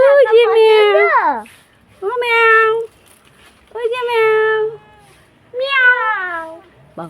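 A cat gives four loud, drawn-out meows close by, each separated by a pause of quiet.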